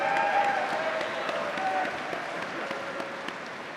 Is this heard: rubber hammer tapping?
no